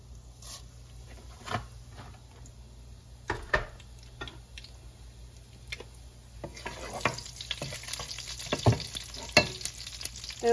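Cumin seeds sizzle and crackle in hot oil as a tadka for a palak, matar and paneer sabji, with a steady low frying hiss broken by sharp pops and stirring clatter that grow busier toward the end.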